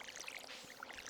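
Water pours from a watering can onto crops in Stardew Valley, a brief bubbly splashing stream with sparkly droplets, faint and alone.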